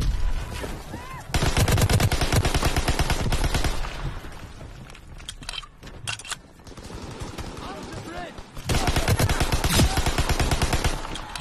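Dense World War II rifle and machine-gun fire in Call of Duty WWII multiplayer, long loud sustained bursts near the listener, broken by a quieter middle stretch of scattered shots and distant battlefield noise.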